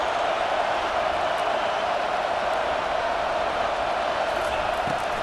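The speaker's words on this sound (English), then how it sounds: "this crowd is fired up. Listen to this noise here" A football stadium crowd keeps up a dense, steady roar with no clear peaks or breaks.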